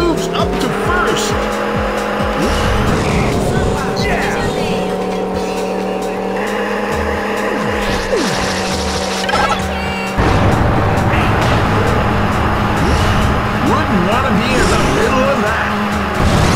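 Racing vehicles in Sonic and Sega All Stars Racing keep up a loud, continuous roar of engines, with repeated tire squeals and skids over game music. An announcer talks over the racing.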